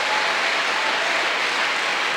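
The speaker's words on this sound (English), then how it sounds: "Give a clap offering to Jesus." A church congregation claps together during worship, a dense, steady wash of applause that fills the whole clip with no gaps and no voices on top.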